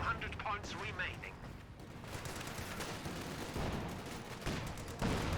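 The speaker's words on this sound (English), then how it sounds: "Nope, that's heavy mortar barrage." A heavy mortar barrage in the game Company of Heroes 2 plays as a series of dull distant blasts and rumbling impacts over battlefield noise, with a few short chirping sound effects early on.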